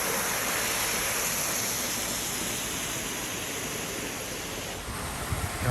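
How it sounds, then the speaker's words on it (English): Water pours steadily from a small waterfall and grotto at a backyard home pool in Lake Havasu, a constant close splashing rush with no voices. "Nice little waterfall and grotto."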